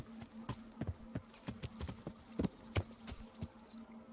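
A horse's hooves clip-clop steadily in the Kingdom Come: Deliverance video game as it is ridden over rough ground near a cliff, an even run of close, distinct hoofbeats with no talking.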